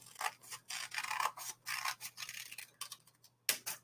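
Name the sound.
scissors cutting folded paper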